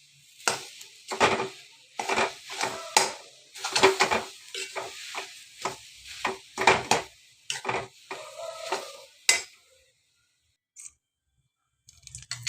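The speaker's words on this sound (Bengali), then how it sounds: "এবার একে ভালো করে মিক্স করে নেব" Grated potato is stirred in a pan for a vegetable chop, a spatula scraping and tossing in about a dozen close rhythmic strokes before falling silent.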